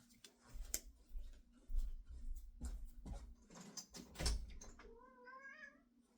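A pet cat being let into the house meows several times up close in a rising, drawn-out call near the end, after a stretch of bumps and handling noises.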